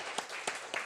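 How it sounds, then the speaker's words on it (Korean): A few sharp bursts of hand clapping during an Easter church service, roughly three spaced claps over a steady background hum, moderately loud. "박수로 부활을 축하합니다."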